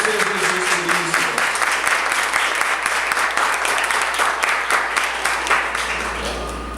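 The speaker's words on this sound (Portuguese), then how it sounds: "Vamos aplaudir o Senhor Jesus por isso." A church prayer-group audience applauds loudly and steadily throughout, dense continuous clapping that fills the space with only a faint voice at the start and fades slightly toward the end.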